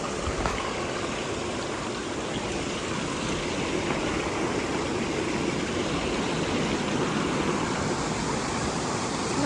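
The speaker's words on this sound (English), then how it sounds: "this is the stream that I could hear from above" Mountain stream rushing past a small stony beach on a backcountry tramping route, a broad, steady wash of flowing water filling the scene without pause and no voices.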